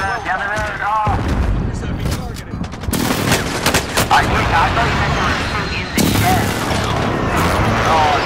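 Dense bursts of gunfire in Call of Duty: Modern Warfare, rapid automatic fire and heavy booms filling the clip at close range, with voices talking over it.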